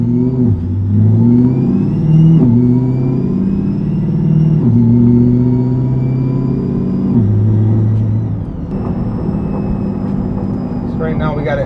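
A Corvette C8 fitted with a Magnuson TVS2650 supercharger, heard from inside on a drive, gives a loud engine note that rises through the revs, drops at each gear shift and climbs again, with a faint whine on top.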